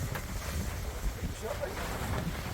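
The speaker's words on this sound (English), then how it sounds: "Bit windy up there today." Steady wind buffets the microphone with broadband rumble and gusts, outdoors on a sailboat near open water, with faint voices underneath.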